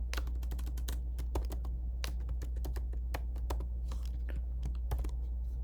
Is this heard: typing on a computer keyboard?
yes